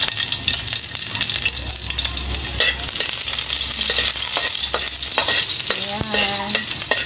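Chopped garlic sautéing in a pan for a Filipino ginisado of mixed vegetables: a steady, close sizzle with repeated scraping stir strokes and a few clinks, no voices.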